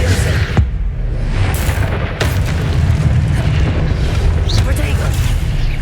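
Confringo fire spells blast repeatedly in Hogwarts Legacy, loud booming bursts and whooshes over a heavy rumbling combat din, with voices calling out spell names throughout.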